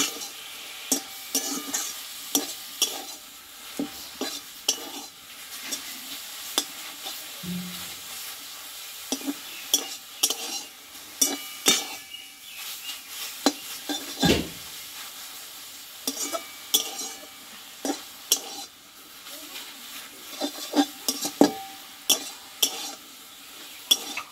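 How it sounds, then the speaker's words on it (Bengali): A spatula scrapes and stirs ground pumpkin leaves around a sizzling wok in uneven, repeated strokes, close and steady, with no voices. "এখন আমি 2 মিনিট মতো এভাবে নাড়াচাড়া করে নেব"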